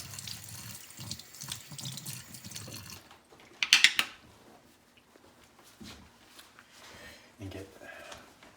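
A tablespoon is rinsed under a running kitchen tap for a few seconds, a steady splashing stream followed by a brief clatter, with a person talking around it in a home kitchen.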